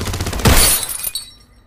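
Lights shot out in the Warzone video game, with a bright crash of glass shattering over a brief gunfire burst, then a ringing decay into quiet.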